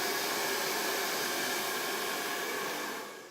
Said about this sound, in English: I'm gonna hit this with a blow dryer because I don't want it to be too wet.